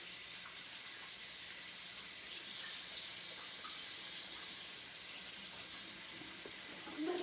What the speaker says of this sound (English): Let me wash my fingers, because I cannot stand to have them dirty.